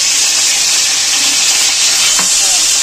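Shrimp and potatoes frying together in a pan give off a steady, even hiss of sizzling oil from start to finish, with no voices.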